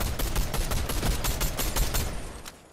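Rapid gunfire from a Fortnite match, where opponents carry shotguns, comes as a dense string of sharp, loud reports that fade at the end.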